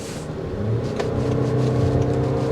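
A 2024 Toyota Grand Highlander's 4-cylinder engine accelerating on a test drive, heard as a steady, droning mid-pitched hum that builds slightly, with a faint tick partway through and no talking.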